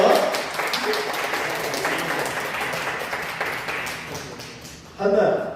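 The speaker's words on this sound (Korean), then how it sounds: "박수를 감사합니다." A church congregation applauds during a service, a dense spattering clap that carries on steadily for several seconds, then swells again near the end, with voices mixed in.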